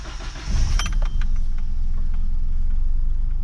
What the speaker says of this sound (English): So here's the car starting after I replaced the relay.